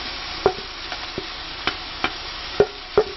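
Spoon stirring spices in a pan for chicken biryani, a series of sharp metallic taps and scrapes roughly every half second over a low steady sizzle, close and alone without talk.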